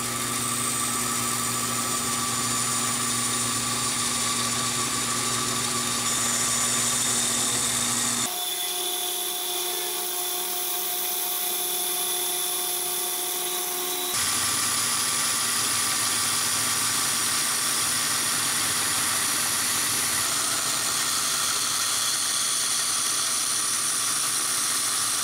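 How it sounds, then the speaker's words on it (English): Porter Cable bandsaw cutting through ebony, a loud continuous high-pitched mechanical whine and rasp that shifts in tone between cuts, running steadily without talk. "I decided to get a little treat and get this Porter Cable bandsaw"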